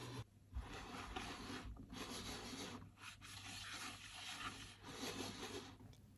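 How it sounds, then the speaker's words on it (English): Logitech gaming mouse feet slide across a bare desk, giving a soft, continuous rubbing hiss with brief pauses as the mouse changes direction, close and quiet. "Now let's listen to the ASMR sound of the feet on the desk without using desk pad."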